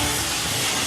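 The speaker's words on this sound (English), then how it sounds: "let's weld a crack on the ship" Animated sound effect of welding a crack on a ship's hull, a steady loud hiss with a crackling, steam-like texture that runs evenly for under a second.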